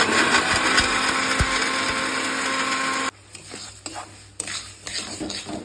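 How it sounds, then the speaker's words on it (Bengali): A kitchen mixer grinder grinds fried spice masala for a banana-flower curry, running as a loud, steady whirring roar for about three seconds before cutting off, leaving quieter clicks and kitchen clatter. "তো দেখুন মশলাটা মিক্সিতে দিয়ে বসিয়ে"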